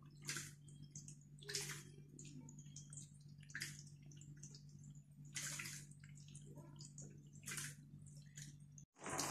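Water running and splashing into a household under-sink water filter housing as it fills, with intermittent bursts of gushing flow over a steady low hum from the system, close and fairly quiet.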